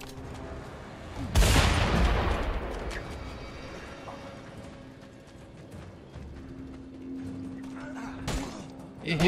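Gunfire in the Mad Max video game: one loud rifle shot early, followed by a decaying boom and rumble, then quieter ambient game sound and a second sharper report near the end.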